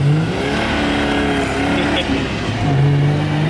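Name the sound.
car engine revving to redline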